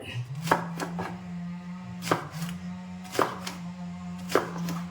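A knife chops brinjal for thoran on a board in a handful of sharp, irregular close knocks, some in quick pairs, over a steady low hum.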